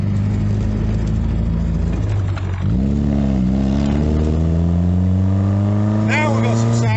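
Engine of a 1973 Triumph Spitfire MkIV 1500 with the top down on a December drive, a steady low drone that revs up and climbs in pitch partway through, with a second rise near the end, while people talk over it.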